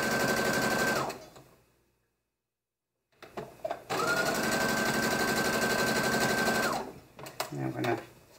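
Sewing machine stitching a maxi dress, with two loud steady runs of rapid mechanical whirring separated by a brief silence, and light handling noises between them.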